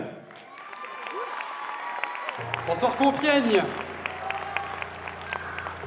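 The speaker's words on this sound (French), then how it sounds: "Merci de l'applaudir comme il se doit" A crowd applauds a singer at the Reine du Muguet 2024 event in Compiègne, the clapping rising under a voice greeting the audience while a music backing begins.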